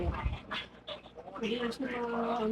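Sam, a pet dog, pants and whimpers close by at home, short breathy bursts mixed with people talking nearby.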